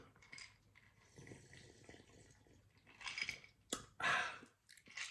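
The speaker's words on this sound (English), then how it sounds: "I'm gonna let you guys watch me pour some." Wine poured from a bottle into a glass at home, a few soft gurgling splashes in short bursts with quiet handling clicks between, close and fairly faint.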